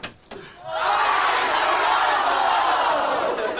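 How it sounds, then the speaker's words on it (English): A live television studio audience on a breakfast show erupts in a loud, sustained collective shout after a brief pause, holding a dense roar for several seconds. "What did the crowd shout? Let's hear."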